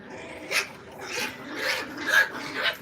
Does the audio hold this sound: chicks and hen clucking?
no